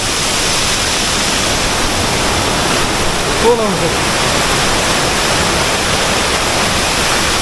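Constant roaring rush of Wah Kaba Falls near Sohra, Meghalaya, fills the scene at close range, loud and unbroken throughout.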